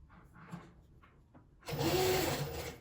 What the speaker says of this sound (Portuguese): Agora eu vou passar uma costura só pra fechar.